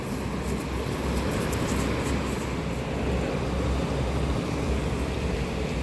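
Uppada beach on the Bay of Bengal at sunrise under a storm alert, with a constant loud roar of surf and wind, broad and unbroken.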